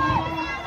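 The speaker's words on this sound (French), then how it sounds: "Course serrée, foule en délire." A crowd cheers and shouts at the Tour des Yoles boat race at Rivière-Pilote, a dense, loud wash of excited voices filling a short burst with no pause.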